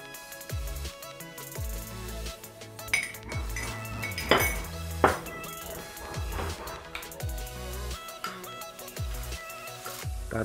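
A utensil clinks and scrapes against a bowl while cooked, drained cup noodles are mixed with egg, giving repeated close clatters and knocks of varying loudness.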